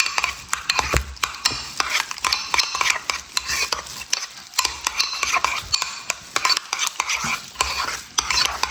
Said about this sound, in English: go ahead and give a good mix to the sauce